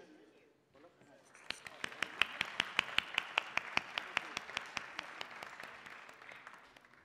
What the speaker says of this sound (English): please join me in a round of applause as we speakers walk to the stage